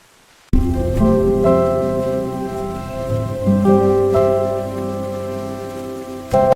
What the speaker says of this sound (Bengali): rain continuous